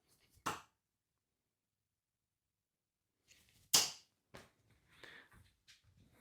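Darts thrown at a dartboard during practice, a sharp single thunk, then a long quiet gap before a second crisp impact followed by softer rustles and small knocks.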